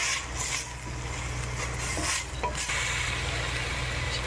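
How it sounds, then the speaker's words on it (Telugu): Amaranth leaves stir-frying in oil in a pan, a steady close sizzle with stirring scrapes throughout and no talking. "తోటకూర అన్ని పచ్చివాసన పోయేదాకా ఎంచుకోవాలి బాగా ఎంచుకోవాలి జర మంచిగా ఈ నూనెలో"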